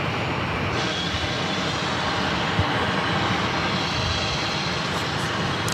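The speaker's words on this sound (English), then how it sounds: "This flight is going to be taking off to Miami," An American Airlines airliner taking off for Miami at Phoenix airport, its engines giving a loud, dense, steady roar that fills the whole stretch without letting up.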